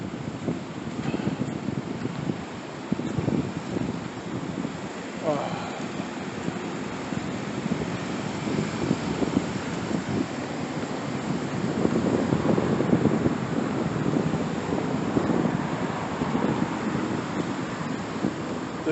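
Steady wind blowing outdoors on a walk, a continuous broadband rush with microphone buffeting that swells louder toward the middle and stays unbroken throughout, with no clear talk.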